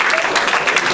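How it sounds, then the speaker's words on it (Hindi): An audience at a Shiva Purana discourse claps in a short, loud, dense burst lasting under a second. "हाँ ताली बजा लो"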